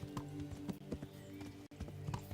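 Horse hooves clip-clop in the medieval game Kingdom Come: Deliverance, a quiet, uneven run of close hoof strikes over game background sound.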